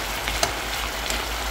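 Onions frying in a pan for pork shoulder steak while being stirred, a continuous dense sizzle with a few soft scrapes and knocks of the utensil, close and steady with no talking.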